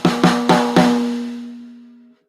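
A snare drum is struck wide open, with nothing damping the head. There are four quick, loud hits and then a long ringing tone that slowly dies away over about a second and a half, with no other sound.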